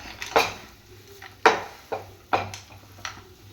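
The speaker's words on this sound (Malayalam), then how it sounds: "നല്ലതായിട്ടൊന്ന് ഇളക്കി കൊടുക്കാം" Batter with fried cashews and raisins is stirred in a pan: a few spaced, sharp clinks and scrapes of a utensil against metal, fairly close, over a quiet kitchen background with no talking.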